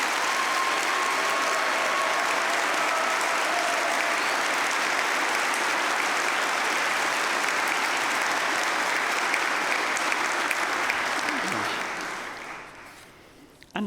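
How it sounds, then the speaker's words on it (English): A large graduation ceremony crowd gives speakers and presenters a dense, sustained round of applause that holds steady for about twelve seconds, then fades quickly to a few stray claps. "can I ask you to join me in giving a huge round of applause to all our speakers and presenters?"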